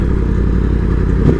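A 2020 Yamaha R1 motorcycle rides in a long first gear, its engine a loud, steady low rumble with a brief swell near the end.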